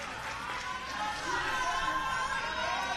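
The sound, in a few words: crowd cheering at archery championship final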